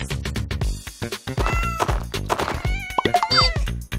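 A cartoon cat meows a couple of times, with high, drawn-out cries over busy, bouncy rhythmic sounds.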